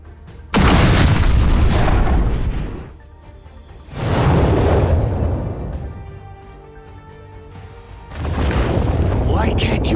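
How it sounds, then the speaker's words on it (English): Heavy booming blasts from a Plasma Cannon attack in the My Hero Academia: All's Justice fighting game, three loud explosions roughly every four seconds, each rumbling then fading, with a voice calling out over the game. "Plasma Cannon!"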